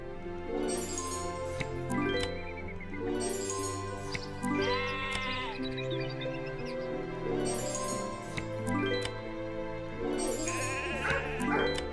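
Several sheep bleat in repeated wavering calls in the game Hero of the Kingdom, over a steady musical background, with a faint jingling now and then.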